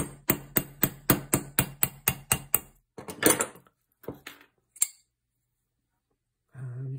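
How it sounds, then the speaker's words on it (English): Light taps with a small tool on a stripped Japanese Browning Miroku shotgun action part, about nine quick, evenly spaced knocks close by, followed by a few scattered clicks and handling noises. "Just give it a little tap."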